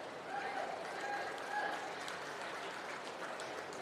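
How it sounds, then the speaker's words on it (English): An audience applauds at a 4-H county fair meat goat show, a steady wash of many hands clapping together at moderate distance that holds evenly throughout, with a few faint tonal chirps in the background. "Please join me in giving these ladies a big round of applause"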